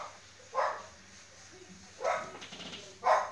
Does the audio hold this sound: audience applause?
no